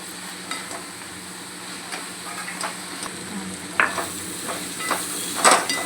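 Besan and capsicum sabzi is stirred in a hot pan with gram flour and garam masala, a steady sizzle under repeated scraping strokes and a few sharp clinks of the spoon against metal near the end.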